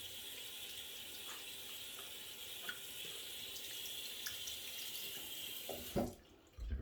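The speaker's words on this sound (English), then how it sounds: "let me rinse out the outside of the soap container first" Running tap water streams steadily over a plastic soap container in a sink, a continuous close splashing wash that cuts off abruptly near the end, followed by a brief knock.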